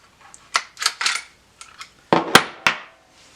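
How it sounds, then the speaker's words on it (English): Savage .22 Rascal rifle being handled as the trigger is pulled to release the bolt: a series of close, sharp metallic clicks and clacks, scattered and irregular, with two crisp snaps near the end. "In order to relieve the bolt, you need to pull the trigger."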